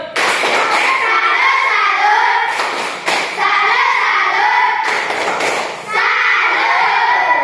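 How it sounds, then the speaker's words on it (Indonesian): Group of students in a classroom doing a rhythmic salute clap together, sharp unison claps in short bursts separated by brief pauses, with young voices shouting along. "Berikan tepuk salut untuk kelompok pembuluh darah"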